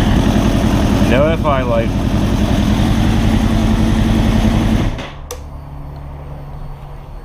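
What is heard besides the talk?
Suzuki GSX-R1000 K7 motorcycle engine idling with Yoshimura exhaust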